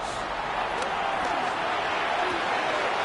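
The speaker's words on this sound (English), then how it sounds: "This crowd, they're trying to force a false start. What noise before 3rd and inches." A football stadium crowd roars steadily before a third-and-inches snap as the home fans try to force a false start. The noise is a dense, continuous wall of sound throughout.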